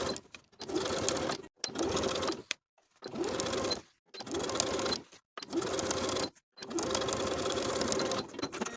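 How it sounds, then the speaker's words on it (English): A sewing machine stitching down the folded hem of a cardigan runs in five or six close, steady bursts of rapid whirring, each about a second long, broken by short silent pauses. "sew all the way around to secure this fold"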